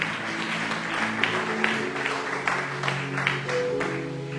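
A church congregation applauds loudly to acclaim God at a service, sustained clapping with sharper individual claps standing out, while a held musical tone rings beneath.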